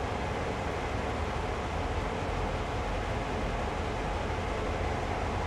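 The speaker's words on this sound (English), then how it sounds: "That's a long train back there, though." A long train runs in Train Sim World, a steady, unbroken rumble of wheels and rolling stock that stays even and continuous throughout with no voices.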